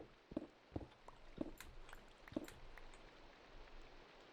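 Rain falls in the video game Minecraft as a faint, soft hiss, broken by a handful of sharper pattering ticks early on before settling into a quiet steady wash.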